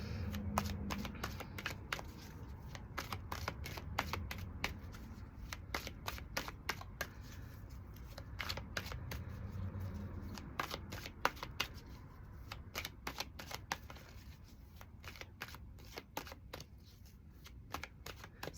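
Tarot cards being shuffled, a dense run of quick papery riffles and flicks continuing steadily throughout at close range, with no talking.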